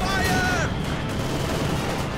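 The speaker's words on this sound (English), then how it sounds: "Lots of mortar rounds flying through the air." Mortar rounds and gunfire in a Company of Heroes 2 battle between Soviet and German forces: a dense, continuous rumble of distant shots and booms, with a whistling streak early on, while a voice talks over the top.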